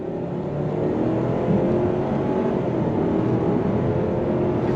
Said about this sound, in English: So not too bad from that 4-cylinder turbocharged engine.